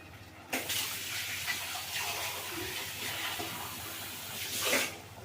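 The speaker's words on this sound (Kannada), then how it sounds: "ನಾನು ಇದಕ್ಕೆ ನೀರು ಹಾಕ್ಕೊಳ್ತೀನಿ" A steady gushing stream of water pours continuously into a pot of field bean (avarekalu) dal, close by, with a sharper splash near the start and another toward the end.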